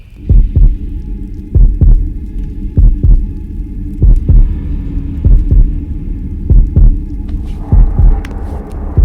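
Heavy, close heartbeat sound effect from a thriller, a steady run of paired thumps beating evenly over a low droning hum and rumble, with no voices, and a brief hiss rising near the end.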